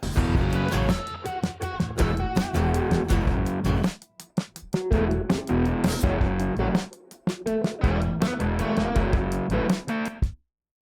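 Digital guitar tone with added reverb plays as a full, dense band mix, loud and continuous, with a brief dropout near the middle before it resumes and then cuts off at the end.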